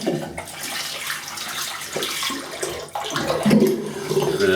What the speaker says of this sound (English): I'll wet the brush.